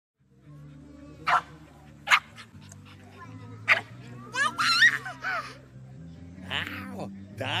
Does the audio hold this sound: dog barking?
yes